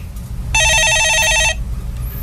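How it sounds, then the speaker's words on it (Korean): An electronic telephone bell rings loudly in one continuous burst of about a second, warbling evenly, in a Korean stock-market call-in broadcast studio, with only quiet background before and after. "예, 전화 받아보겠습니다."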